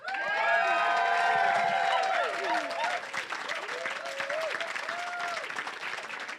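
Wedding reception guests burst into loud, sustained applause with cheers and whistles, the clapping dense at first and easing slightly as voices and shouts carry over it.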